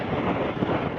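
A KTM 390-class single-cylinder motorcycle engine runs in a steady, dense, loud drone with no breaks or changes in pitch, heard alone without any talk.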